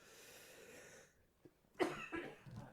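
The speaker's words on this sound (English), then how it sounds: "I'm starting to get a coughing fit." A person coughs in a short burst of rough, throaty hacks, loud and close, after a quieter stretch of breathing and low background hum.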